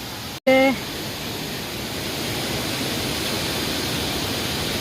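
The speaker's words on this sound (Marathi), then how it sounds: "इकडे बघा तेवढ्या उंचावरून धबधबा." Loud, constant roar of rushing water falling from a high waterfall in the Konkan fills the whole clip, with a short vocal exclamation near the start.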